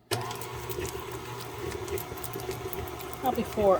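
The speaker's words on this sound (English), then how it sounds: "I have put in the butter, the butter flavored Crisco, and the cream cheese into my mixer. And then I'm just going to cream that together." An electric stand mixer creams butter, butter-flavored Crisco and cream cheese with a low, steady motor hum, and a few brief spoken words come over it near the end.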